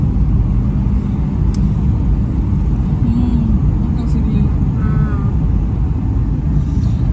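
A car hums along steadily while being driven on the road, a constant close rumble of engine and road noise with a few voices over it.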